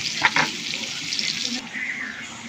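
Bagoong (shrimp paste) sautéing in a pan for a Bicol dish, a steady close sizzle with a couple of brief stirring scrapes early on, the frying hiss continuing loudly throughout.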